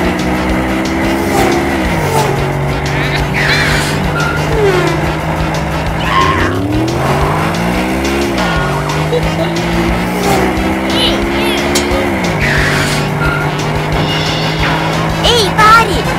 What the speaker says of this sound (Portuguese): Uma corrida com os caminhões.